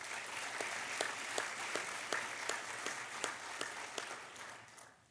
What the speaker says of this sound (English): Please give a round of applause for Dr.